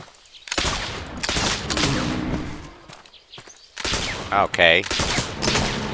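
Gunfire while hunting in the Oregon Trail video game: a string of sharp, loud digital shots spaced through the moment, with a brief spoken word between them.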